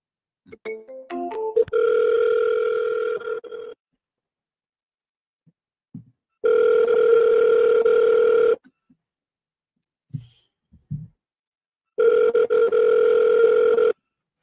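A phone call's ringback tone sounds three times, with each steady electronic ring lasting about two seconds and separated by long silent gaps. A few dialing beeps come first and faint clicks fall in between.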